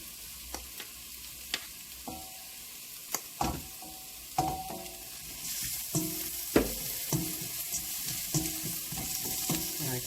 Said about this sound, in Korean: 양파, 당근 먼저 내려서 볶아보도록 하겠습니다.